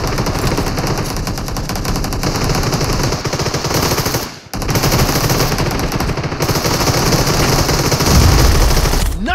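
Dense, rapid automatic gunfire from a PUBG Mobile TDM arena match rattles loudly and almost without break, with one brief pause midway.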